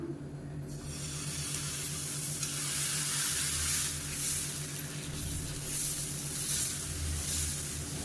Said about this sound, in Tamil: இப்போ கல் நல்லா காஞ்சிருச்சு. நம்ம தோசை ஊற்றிக்கலாம்.